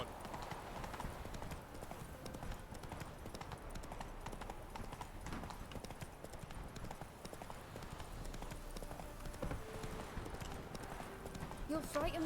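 Roach, a horse in Witcher 3, trots along with a continuous, close clip-clop of hooves over a busy ambient game background, with a faint whinny and voices speaking in the mix.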